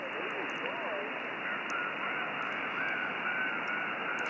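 A mistuned single sideband ham radio signal on the 20 meter band produces warbling, duck-like garbled speech over steady hiss and static, continuous and moderately loud.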